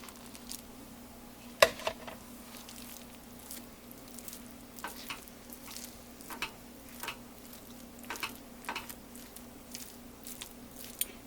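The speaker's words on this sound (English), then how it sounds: "I'm going to stir this until all the rice is completely mixed in" Rice stirred into tomato sauce in a pan gives soft scraping and spoon taps, with a few sharper clicks scattered over a low continuous background. There is no talking.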